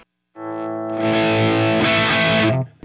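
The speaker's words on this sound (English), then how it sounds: "Then we'll put in cab two, which is the straight with all vintage 30s." Distorted electric guitar played through a straight cabinet loaded with Vintage 30 speakers, a loud sustained chord ringing out, then a second strummed chord that holds before cutting off, with no talking.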